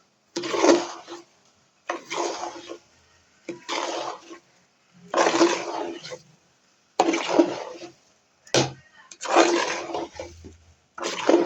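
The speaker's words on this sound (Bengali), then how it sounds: "এখন এটা আমি ভালো করে নাড়াচাড়া করব।" Washed, drained rice is stirred in a pot for tehari, giving rough, repeated scraping and swishing strokes in distinct bursts with brief pauses between them, fairly close.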